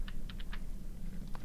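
Typing on a computer keyboard, a short burst of soft clicking keystrokes, a few quick taps then a pause and a couple more, close up over a low steady hum.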